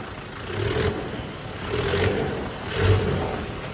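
A new tractor with a fault, working a field with a disc harrow, runs its engine in three rising surges of revving over a steady rumble, fairly close and loud.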